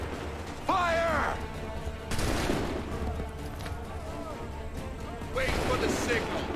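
Musket volley in Assassin's Creed III fired on command: bursts of gunfire with crashes and clatter, loud and near, while voices shout orders over the shots.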